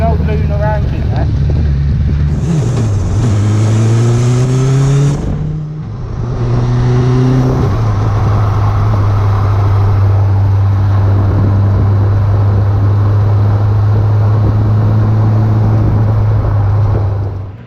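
A car fitted with a 3D-printed front wing drives through a car park, its engine droning loud and close with pitch rising and falling as it speeds up and shifts, steadying into a constant hum while people talk.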